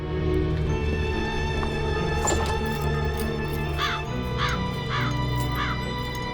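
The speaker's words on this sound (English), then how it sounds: "Look at the raven in its nest in the mud on the ground." A raven in Black Mirror II gives four harsh caws in quick succession over a droning game soundscape, fairly close and clear.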